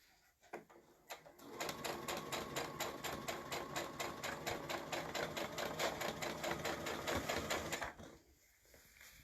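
A sewing machine stitching a cushion cover at stitch length 3 runs in a steady, rapid needle rhythm for about six seconds, close and clear, then stops.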